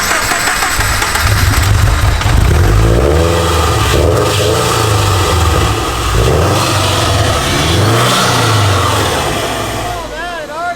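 A car engine catching after a fuel pump fix at a Riverside Chattanooga car show, then revving repeatedly in loud rising and falling surges close by, with people talking over it.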